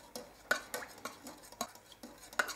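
Homemade grafting wax mixture being stirred with 96% alcohol, giving a series of scraping, clinking strokes of a utensil against a container, close and fairly quiet, at an irregular rhythm with no voices.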